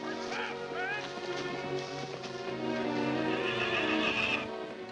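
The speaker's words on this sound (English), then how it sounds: "Hurry up with them horses." Horses neigh and whinny in a 1940s Western setting beside a wagon, a couple of rising calls standing out over a dense bed of orchestral music and background noise.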